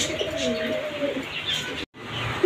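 Fancy pigeons at a farm coo steadily, close and continuous, a pair of red birds among them, with a brief gap near the end and no talk.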